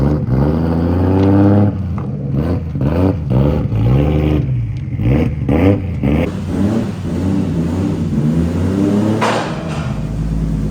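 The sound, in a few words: 1JZ GTE VVTi turbo engine revving on a dyno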